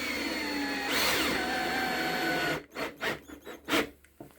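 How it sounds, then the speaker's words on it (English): A power drill pre-drilling holes in wood whines steadily, its pitch sliding as it spins, then fires off several short, sharp bursts up close. "So you can like pre-drill the holes."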